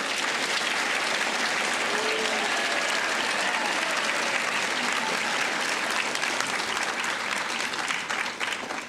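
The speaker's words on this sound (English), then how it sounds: "the biggest round of applause for your teachers" A large audience applauds teachers at a National History Day awards ceremony, sustained dense clapping at steady volume for several seconds that thins slightly toward the end.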